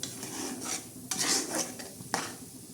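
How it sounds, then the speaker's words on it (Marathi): Masala being stirred in a cooking pot, with repeated scraping strokes of a spoon against metal over a faint sizzle, close up with no voices. "असं चांगलं हलवून घ्यायचा हा मसाला"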